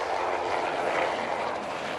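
A helicopter in the Trainz railway simulator flies past, a steady, broad rotor-and-engine roar holding at an even level throughout with no voices.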